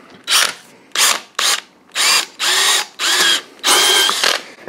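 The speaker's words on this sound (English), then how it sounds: "I'm just drilling with a 3mm bit to open up the top ideally." A hand drill with a 3mm bit bores into a lock cylinder in seven loud, close bursts of whirring, each a second or less, separated by brief pauses.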